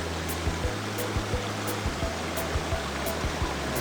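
Steady rushing water of a flowing stream, close and continuous, with faint low thumps scattered underneath.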